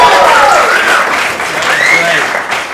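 A crowd applauds steadily throughout, with a person's voice speaking over the clapping.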